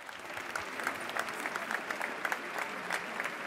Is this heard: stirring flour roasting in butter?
no